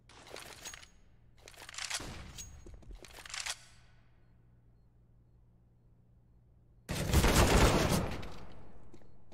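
AK rifle gunfire in a Counter-Strike match on the Mirage map: three quick bursts of shots, then a louder sustained volley after a pause, sharp and close.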